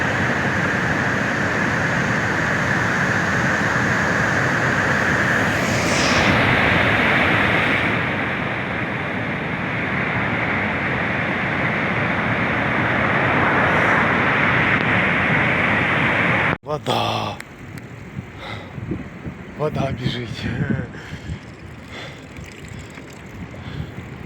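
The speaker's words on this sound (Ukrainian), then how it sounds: "у них бывают моменты нарастания, волны становятся больше, а потом опять уменьшаются" Ocean waves surge along a Peruvian shore as a constant loud roar that swells and eases, with wind buffeting the microphone, then a sharp handling knock after which the wash continues more quietly and unevenly.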